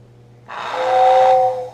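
A Lionel toy train whistle sounds a single steady, fairly loud hissing blast of about a second, with tonal whistle pitches riding over the steam-like hiss, rising in and fading at the end over a low electrical hum.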